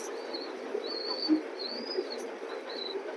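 Large male racer pigeon cooing close by, a series of soft, drawn-out rising coos repeated at a steady pace over a faint background hiss.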